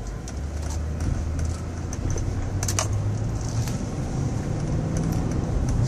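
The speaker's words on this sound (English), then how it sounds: "Got the AC on. It's probably the only noise you could really hear." Steady broadband air conditioning hiss and low engine hum inside a moving car, continuous and fairly quiet throughout with faint scattered ticks, no talking.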